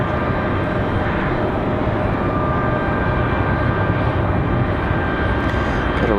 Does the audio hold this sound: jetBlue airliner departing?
yes